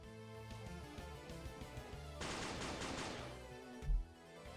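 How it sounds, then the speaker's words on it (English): A barrage of gunfire in the video game Dies irae, a dense burst of shots against a musical backdrop that swells midway and ends on a heavy thump. "One shot after another, Shiro released the barrage of the gunfire."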